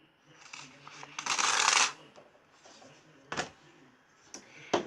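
Paper sheets rustle and crinkle as they are handled for a quilting block, with one sustained burst of crumpling followed by shorter brushes and flicks, close by, interspersed with a person talking.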